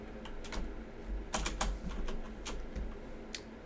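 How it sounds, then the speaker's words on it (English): Close computer keyboard with sticking keys being typed on in short irregular bursts of clicks and clacks, over a low background hum, no voices. "Yeah, my keyboard's sticking."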